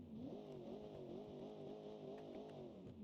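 A V8 engine of a 1970s supercar in the video game Automation/BeamNG gives a steady, throaty rumble at an even idle, its low tone wavering slightly, continuous and close with no voices.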